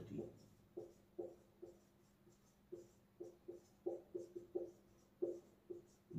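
A pen writes by hand in quick, faint, close strokes, forming an uneven rhythm of short scratches with brief pauses between words.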